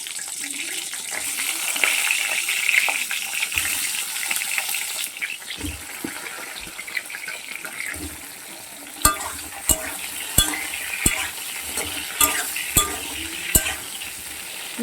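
Cut eggplant pieces hit hot oil in a pan for an ilish dish, bursting into a loud, steady sizzle, followed by a run of regular sharp spatula knocks and scrapes while stirring, close up.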